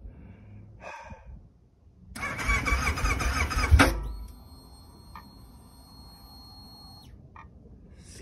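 A Kawasaki motorcycle is started without the choke: a loud burst of starter cranking for under two seconds, then the engine catches briefly before settling to a quieter low hum with faint mechanical tones.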